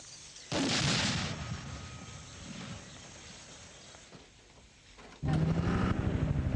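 Mortar fire during a clearing operation against rebel-held houses and farms in El Salvador, two heavy booming rumbles a few seconds apart that roll out and fade, with no voices.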